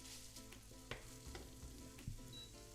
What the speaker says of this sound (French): je fais fondre de la margarine. Je vais mettre mes lardons